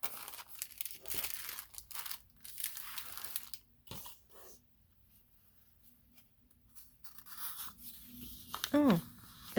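Decorative rice-paper-like sheets rustle and crinkle as they are unwrapped, in quiet bursts of crackling with pauses between, fairly close and soft.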